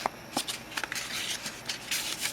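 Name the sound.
folding paper bag flaps for a scrapbook album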